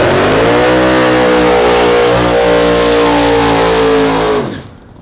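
A nitro Top Fuel dragster roars down the drag strip at a Nitro Nationals event, a loud sustained engine blast with a rising pitch that fades quickly as the car passes into the distance.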